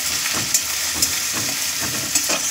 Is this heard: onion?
yes